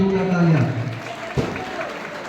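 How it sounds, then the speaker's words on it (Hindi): Applause for the chief guest at a nursing college farewell party, a steady patter of clapping from a crowd with a voice over the top that fades out at the start. "सर के लिए जोरदार तालियां"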